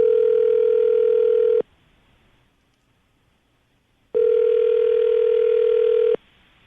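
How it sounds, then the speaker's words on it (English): Two long, loud bursts of a steady telephone tone separated by a short silence, like a ringback pattern on the line. "Nick, I'm going to dial the phone number"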